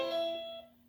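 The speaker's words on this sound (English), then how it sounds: "That's our driveway bell." A driveway bell gives a single electronic chime that rings out with clear sustained tones and then fades over less than a second, moderately faint and alone.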